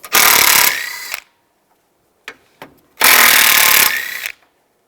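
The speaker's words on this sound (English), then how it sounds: "Take these bolts out, use a 10mm socket." A power tool backing bolts out with a 10mm socket during inverter radiator removal on a 2010-2015 Toyota Prius, two loud close whirring bursts of about a second each, separated by a pause with a few short clicks.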